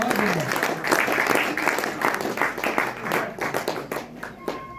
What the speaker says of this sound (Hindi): नीरज जी के लिए जबरदस्त तालियां बजाइए।